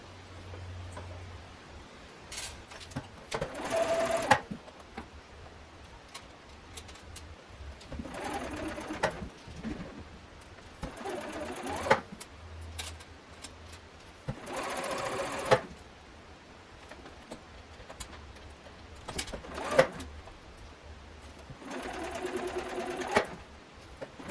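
Sewing machine running a seam along a color-block flannel shirt, in several separate short bursts of close stitching with quiet pauses between them.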